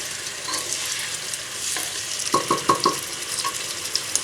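Crushed tomato and spinach stirred together in a pan for a fish dish, steady sizzling with a quick run of four or five scraping spoon strokes, then one more, close and moderately loud.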